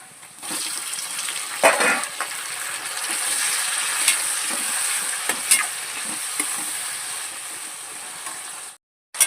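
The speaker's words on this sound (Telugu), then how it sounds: "పచ్చిమిర్చి ఉల్లిపాయలు వేస్తాను కొంచెం ఉల్లిపాయలు వేగాయి కదా" Onions and green chilies frying in a pan give a steady, loud sizzle with a few sharp stirring scrapes, cutting off briefly near the end.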